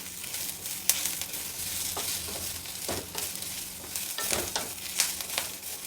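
Byadagi dried red chillies fry in a pan with a steady, soft sizzle, interrupted by repeated scraping stirs and occasional light clicks, close by and without any talking.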